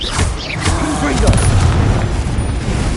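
A Confringo fire spell explodes in the video game Hogwarts Legacy, making a loud, dense, rumbling boom with a crackling burst that fills the whole moment.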